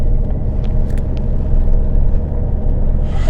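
A car cruises along highway N-332 in Spain, its steady road rumble and tyre noise filling the background evenly and continuously, with no talking.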